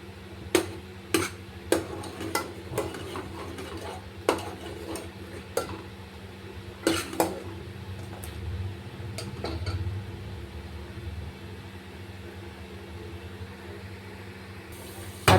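Melting butter being stirred in a pan over medium gas to make ghee: sharp, scattered clinks of a spoon against the metal pan, quite faint, over a steady low hum, with the taps thinning out later.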